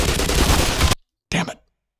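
Gunfire in the video game Black Mesa: a dense, loud burst of rapid shots lasting about a second, then a brief silence and a shorter second burst.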